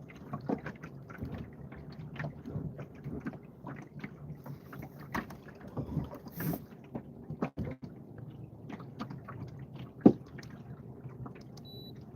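A fishing boat trolling on open water, with soft hull knocks, water slaps and creaks scattered over a quiet, wind-brushed background and a sharper bump near the end.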